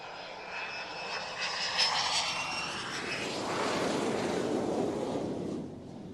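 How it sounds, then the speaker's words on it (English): A painted propeller aircraft passes overhead with a loud, broad engine roar that swells as it nears and then slowly fades, with no voices. "One of my favourite painted up aircraft."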